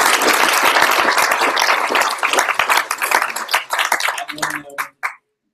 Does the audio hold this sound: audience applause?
yes